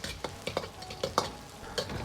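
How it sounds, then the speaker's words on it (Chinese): Dried chilies and red Sichuan peppercorns being stir-fried in a wok, with a steady sizzle broken by several sharp scraping strokes of the spatula, close and fairly loud. "然后放入5克左右的红花椒，"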